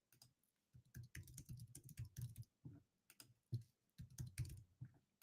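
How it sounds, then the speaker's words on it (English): Rapid keystrokes on a computer keyboard during live day trading, coming in bursts of clicky taps with brief pauses, close and fairly quiet, with no talk. "There's going to be a lot of typing over here."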